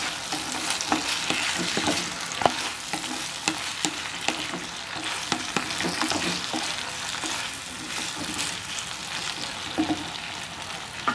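Yam pieces are stir-fried in a pan for a tamarind curry, with a steady close sizzle and frequent scraping stirs throughout, no voices.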